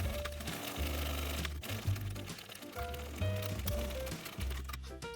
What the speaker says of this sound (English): we're just going to sew that seam allowance